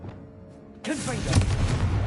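Explosive Confringo spell in the video game Hogwarts Legacy, going off abruptly after quiet ambience and swelling into a loud, sustained blast with rumbling low end and crackling debris that carries through the rest of the moment.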